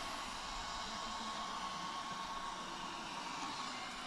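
A driverless electric race car from Uni Lisbon accelerating at a student racing event, a steady whirring, hairdryer-like electric whine held at moderate distance for the whole stretch without talk.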